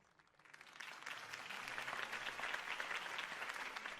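Crowd applause for Harvey Dent's campaign speech in the Batman Telltale video game, fading in and swelling into a dense, steady wash of clapping at moderate distance.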